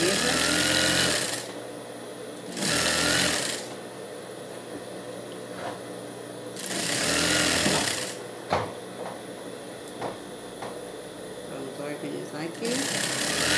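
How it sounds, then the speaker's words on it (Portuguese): Sewing machine stitching all the way around a blue dress, running in loud whirring bursts of one to two seconds separated by pauses, close up, with someone talking during the quieter gaps. "Costura toda a volta, tá?"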